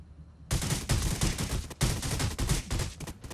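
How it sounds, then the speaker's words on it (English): Bursts of rapid gunfire crackle in the distance during a Death Race mode vehicle shooter game, arriving as dense, rattling volleys with one short pause midway. "There's also some gunshots to the west."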